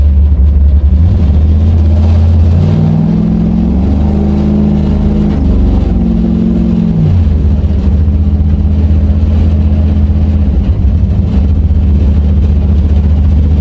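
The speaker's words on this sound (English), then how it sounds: "I left the throttle holder loose. That's what that rattling is." A race car driving with a loose throttle holder, its loud steady engine drone rising and shifting in pitch through the middle, with a continuous rattle mixed into the close, unbroken mechanical noise.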